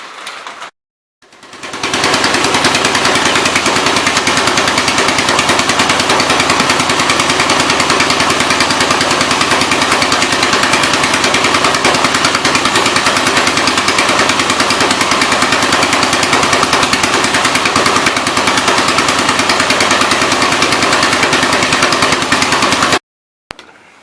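A 1966 Ford engine catches abruptly and runs loud and close for over twenty seconds. Its rapid hammering, uneven beat stays steady throughout before cutting off.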